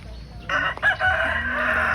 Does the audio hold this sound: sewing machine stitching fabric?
no